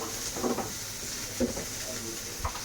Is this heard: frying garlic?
yes